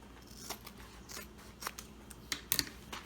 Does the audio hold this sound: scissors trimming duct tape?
yes